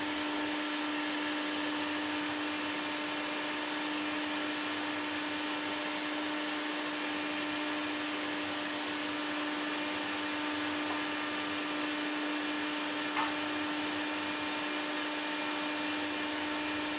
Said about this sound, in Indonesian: di sini kipas atau fan sudah berfungsi dengan normal ya, karena ada peningkatan suhu dari inverternya